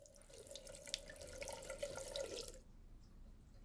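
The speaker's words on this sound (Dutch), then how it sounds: "Ik doe de kraan open." A bathroom tap runs into a sink for toothbrushing, a steady splashing stream for about two and a half seconds before it is turned off, leaving quiet room tone.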